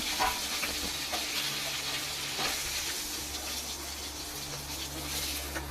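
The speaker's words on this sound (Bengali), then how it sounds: "এইভাবে মাছের মাথাটাকে ভেজে নিতে হবে" A fish head fries in hot oil, giving a steady, close sizzling hiss with occasional crackles and bubbling that holds evenly throughout, with no talking.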